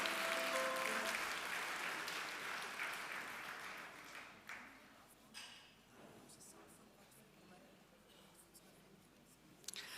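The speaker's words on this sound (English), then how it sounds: "Just a round of applause for those colleagues that have also received their awards." A ceremony audience at the NWU Excellence Awards gives award recipients a round of applause, strongest at the start and then fading into a faint, diffuse patter with occasional louder claps.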